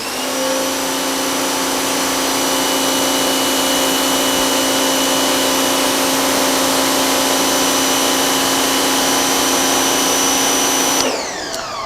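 Active 2.0 / VE52 electric pressure washer running about three feet away, a loud, steady motor whine with a constant pitched hum that holds evenly for over ten seconds before cutting off abruptly near the end.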